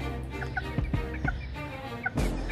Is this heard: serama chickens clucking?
yes